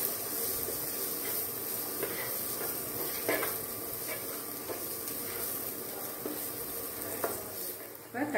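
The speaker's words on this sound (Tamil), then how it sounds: "வெங்காயம் சேர்த்து வதக்கிக்கலாம்" Onions sautéing in a pan for a mixed vegetable paneer gravy, a constant hissing sizzle with occasional light scrapes of stirring, close and even throughout.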